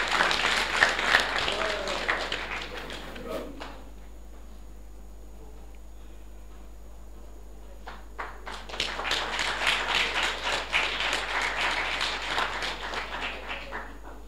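Audience applause at a graduation ceremony for hydrology engineers, a burst of crowd clapping that dies into a quiet room for several seconds before a second, longer round of clapping swells up.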